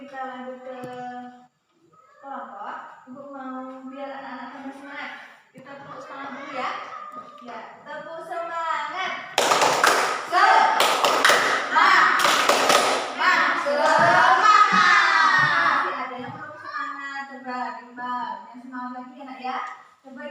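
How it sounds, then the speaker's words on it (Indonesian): Indonesian schoolchildren in a classroom doing the tepuk semangat, a rhythmic clapping chant led by their teacher: the teacher's voice leads, the children chant, and loud bursts of claps and thumps come in the middle, mixed with children's voices and some laughter. "kita tepuk semangat"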